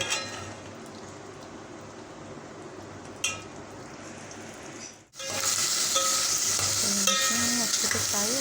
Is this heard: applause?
no